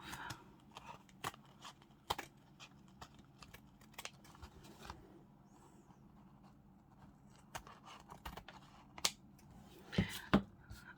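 Scissors make faint, scattered snips and scrapes as material is cut off a journal cover, with quiet handling noises between the cuts.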